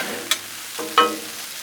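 Shrimp, steak and mushrooms sizzle faintly on a Blackstone griddle as a spatula stirs them, with a few short scraping taps over a soft frying hiss.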